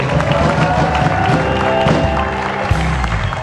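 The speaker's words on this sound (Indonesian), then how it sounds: "kita tepuk tangan dulu" A studio audience at a television talk show claps for a guest, a steady, full round of applause filling the room with a faint crowd murmur beneath it.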